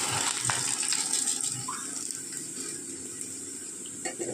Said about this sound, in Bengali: মেথিটা একটু ভেজে নেব।